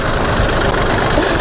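A tractor engine runs close by during sowing in the fields, a loud, constant mid-to-low rumble with a slightly knocking idle that holds steady throughout.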